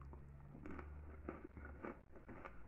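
Bimbo Hojaldre puff pastry with a sugar glaze gets a few soft, close crunches and flaky crackles, quiet and separated by short pauses.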